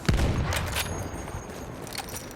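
A Tank Gewehr anti-tank rifle fires in a Battlefield 1 multiplayer Conquest match at Fao Fortress: a single loud, heavy report near the start, followed by a dense wash of distant battle noise and scattered gunfire.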